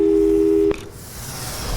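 In Portal 2, a steady phone tone cuts off abruptly at a call hang-up, leaving a hissy, noisy line afterward.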